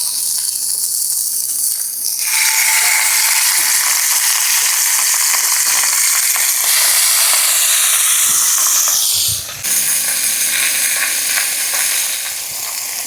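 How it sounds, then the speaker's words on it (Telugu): Washed chicken pieces frying in hot oil for a village-style Indian chicken fry: a loud, dense, continuous sizzle and hiss that swells sharply after the first couple of seconds, briefly dips, then roars on with faint stirring scrapes. "మనం కడిగి పెట్టుకున్న చికెన్ అయితే వేసుకుందాం."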